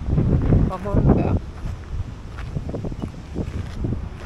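Wind gusts rumble against the microphone, blowing dust, in a gorge on the north shore of Issyk-Kul, Kyrgyzstan, with a person talking over the blowing at first.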